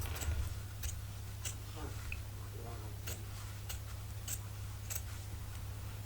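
Scissors snip along the bottom edge of a paper page for a boho butterfly junk journal, several crisp cuts spaced through the clip over a steady low hum.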